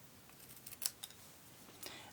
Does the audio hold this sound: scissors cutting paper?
yes